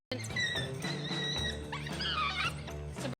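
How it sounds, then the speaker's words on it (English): African wild dogs at close range give a run of high, chirping, bird-like twitters and squeaky yips, tonal and wavering, over a low steady hum, then fall silent. "African wild dogs have a very distinct vocalization."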